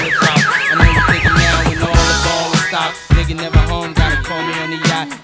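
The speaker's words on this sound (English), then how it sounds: "When heavy machinery eats your tie, it sounds an alarm." A warbling electronic alarm sounds from a safety tie contraption triggered when heavy machinery catches the tie, loud and close, its rising and falling whoops mixed with heavy rhythmic music hits.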